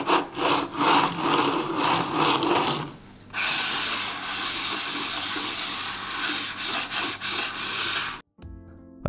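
Ceramic mouse feet slide back and forth on a bare wooden table, a close, loud, dry scraping in repeated strokes, briefly pausing, then continuing before a sudden stop.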